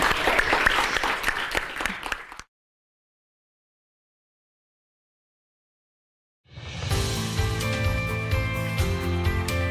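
Audience applause at a Summer Star 2017 event bursts loudly and evenly for a couple of seconds, cuts to dead silence, then returns as dense clapping with music underneath.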